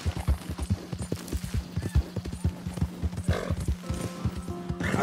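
Repeated hoofbeats clop in an uneven rhythm, with a horse whinnying near the end, close and fairly loud, in the video game Red Dead Redemption 2.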